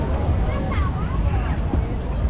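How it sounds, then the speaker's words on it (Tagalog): Strong wind by the sea at a seaside mall, roaring and buffeting the microphone steadily throughout, with crowd babble mixed underneath. "Malakas yung hangin ngayon kasi tabi lang ng dagat"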